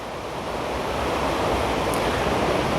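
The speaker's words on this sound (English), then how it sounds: "the waves are not too strong" Gentle ocean waves wash over a wet sandy beach in a continuous, fairly loud rush, with breezy wind noise and no voices.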